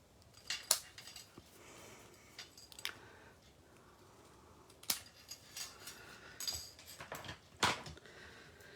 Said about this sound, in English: you just take your scissors and you just cut along the line